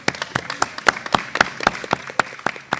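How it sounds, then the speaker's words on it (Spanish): An audience at a book presentation applauds, a brisk run of distinct, fairly close hand claps in a steady, lively rhythm with no talking over it. "para el cual pido un fuerte aplauso"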